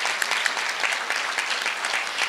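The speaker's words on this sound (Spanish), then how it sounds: "Ante su ausencia, pido un aplauso." Steady applause from an audience at an anniversary event for a Mexican medical society, moderately distant and continuous with no talk over it.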